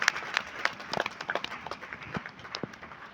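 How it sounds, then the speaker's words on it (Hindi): Scattered hand claps from an audience at a legal services camp ceremony in Pantnagar, uneven and moderately loud, with a few sharper claps standing out. "तालियां बजाएं, तालियां बजती रहनी चाहिए"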